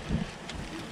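A short burst of 50 km/h gusting wind buffets the microphone, a low rumbling roar with no voices.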